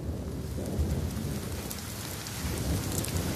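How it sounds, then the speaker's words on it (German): Heavy rain pours steadily at a mountaineering base camp on Nanga Parbat, with low rolling thunder rumbling underneath the dense, continuous hiss throughout. "Schwerer Regen hält die Männer tagelang im Basislager fest."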